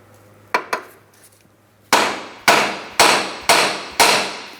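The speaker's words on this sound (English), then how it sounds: "I'm going to use some penetrant and tap on this with a hammer." Sharp metallic hammer taps ring out close by on a 2003-2007 Cadillac CTS steering knuckle, two lighter ones followed by five heavier, evenly spaced strikes that each ring briefly.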